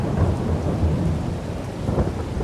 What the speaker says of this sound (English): Come on, rain, give us a break.